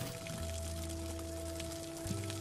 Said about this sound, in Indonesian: terdengarlah suara air mengucur dari keran shower